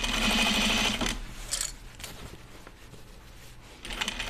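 Close sewing machine stitching a jeans seam, a fast rattling burst about a second long, then quieter handling clicks and a short restart near the end, with no voices.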